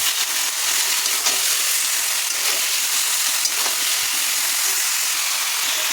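Meat is added to browned onions frying in oil for a biryani. It gives a loud, steady, close sizzle and hiss that runs unbroken throughout.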